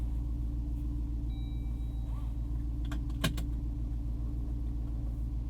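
A 2022 Jeep Wrangler Unlimited Rubicon 392 rumbles with its performance exhaust switched on, a deep, steady low engine drone from inside the cabin, with a brief click or tap partway through.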